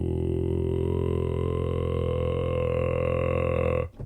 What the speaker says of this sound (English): relax, slip into vocal fry while you are singing that note